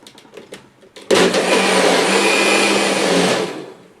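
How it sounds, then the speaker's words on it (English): A vacuum blender blending carrot pulp with coconut water starts with a few soft clicks, then roars loudly at a steady pitch for a couple of seconds before winding down. "We're going to go ahead and put that in the blender and blend it on up."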